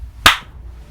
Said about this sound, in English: That was a nice clap